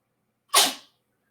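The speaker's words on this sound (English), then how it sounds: "Oh, he was not done sneezing." A cat sneezes once, a single sharp, close burst that fades quickly, alone in an otherwise quiet room.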